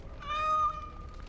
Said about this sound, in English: So I found a cat out in the courtyard